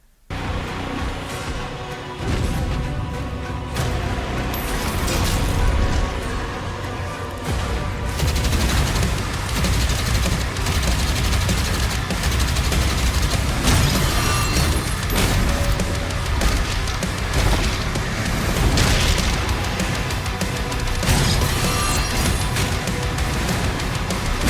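Dense, continuous gunfire and booming blasts from the new Doom video game, including a weapon that crushes skulls as it shoots, loud and sustained throughout with thick game music and effects layered underneath.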